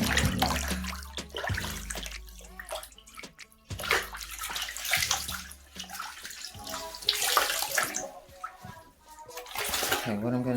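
Water runs steadily into a bathtub where towels are being stripped, with splashing, sloshing and clinking handling noises throughout, loud and near under bits of talk.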